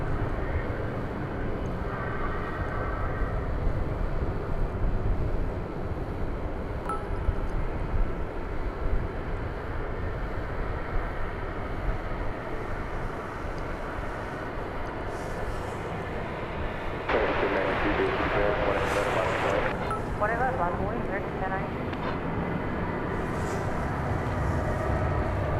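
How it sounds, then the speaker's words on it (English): A UPS Boeing 767 jet takes off from the east side of DFW Airport at night, its engines a broad, steady roar at some distance that swells slightly partway through, with a sharper hiss joining near the end. "There goes that 767 UPS, just took off from the east side."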